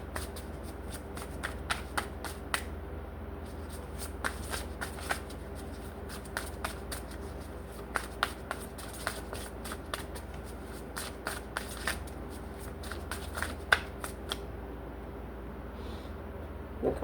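Two tarot card decks are shuffled close up, with a steady run of soft papery riffles and sharp card snaps at irregular intervals and no talk over them.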